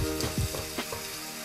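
Masala roasting in a pan for a green chana curry, loud continuous sizzling and frying crackle with quick stirring scrapes, heard up close with no talking.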